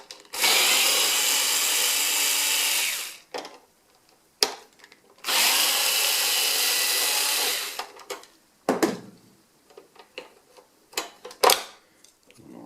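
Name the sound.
unscrewing BenQ W2000 projector lens shift cover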